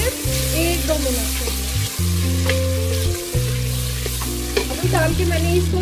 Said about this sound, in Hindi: आलू डाल के हम इसकी भुनाई कर लेंगे सिर्फ 1-2 मिनट